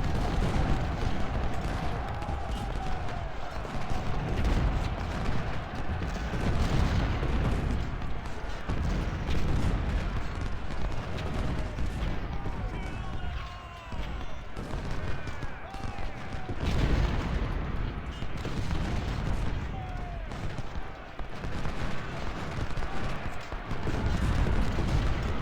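Artillery and musket fire from the Battle of Gettysburg in the strategy game Ultimate General: Civil War rumbles on without pause, with dense booms and crackling volleys and a voice talking over it.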